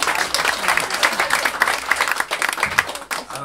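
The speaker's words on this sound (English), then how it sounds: "would you just give another round of applause to that gentleman just who spoke before me?" An audience at a traditional Irish singing event claps in steady, dense applause that fills the whole stretch, fairly close and with no voices over it.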